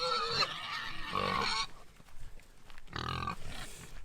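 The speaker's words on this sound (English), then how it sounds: "You couldn't wish for a better environment for pigs." Pigs in a wooded run of ash and oak give several rough grunts in two bursts separated by a quieter gap, fairly close, with no talking.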